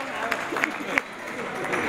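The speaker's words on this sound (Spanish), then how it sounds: "Fuerte el aplauso." A crowd at an anniversary gathering of radio announcers applauds an honoree, with brief clapping and a few louder claps under a voice speaking over the room.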